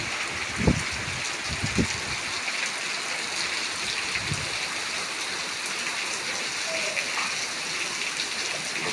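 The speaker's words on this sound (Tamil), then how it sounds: "திருப்பூர்ல மழை சரியான மழை அடிச்சு விட்டுது" Heavy rain pours down in Tiruppur, a dense, steady roar of water with runoff flowing. A few dull thumps come early on.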